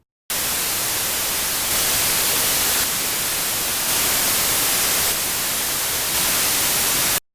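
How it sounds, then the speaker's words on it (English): Steady, loud white-noise hiss fills the whole stretch, mixed with a delayed copy of itself, shifting subtly in a few blocks as the delay changes, with no voices. "Okay, with white noise, it sounds pretty much the same at this point."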